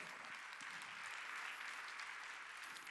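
A church congregation claps together during a Wednesday worship service. The applause is a dense, steady wash of many hands, heard faint and at a distance for about three seconds.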